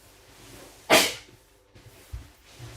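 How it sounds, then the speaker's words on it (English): A single sharp, loud sneeze bursts out from someone close to the microphone, followed by quiet room tone and a few faint soft thumps. "Oh, I'm going to sneeze potentially."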